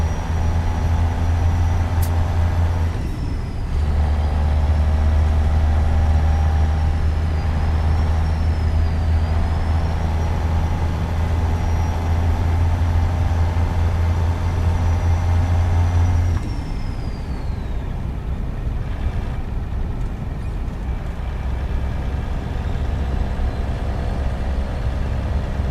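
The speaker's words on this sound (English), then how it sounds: "It's such an old engine sound" An old Kenworth W900 truck engine idles with a deep, steady low rumble, close and loud, briefly interrupted by a short hiss partway through, then settling into a quieter drone near the end.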